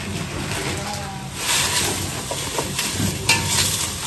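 Chicken sautéing with garlic and onion in a pan, a steady sizzle with stirring scrapes, while a person talks over it.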